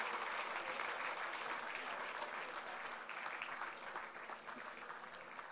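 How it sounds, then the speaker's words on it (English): An audience at a foundation lecture applauds a speaker, a dense, steady wash of clapping that fades slightly toward the end, with no talk over it. "let's give him another round of applause for a job well done."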